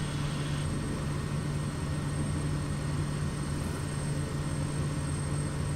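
Steady propeller aircraft engine drone from a light plane in Microsoft Flight Simulator, a continuous even hum with a constant low tone throughout, no voices.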